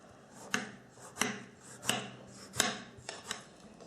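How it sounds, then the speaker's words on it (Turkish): A knife cubes unpeeled tomatoes on a board in steady, evenly spaced strokes, about one every two-thirds of a second, close and moderately loud. "Domateslerin kabuklarını soymuyoruz. Küp şeklinde doğruyoruz."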